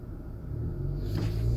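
A car driving along the road, heard from inside as a low, steady rumble of engine and tire noise that swells slightly toward the end, with no one speaking.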